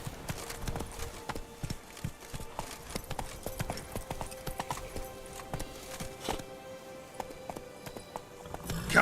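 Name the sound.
horse Roach galloping, from the video game Witcher 3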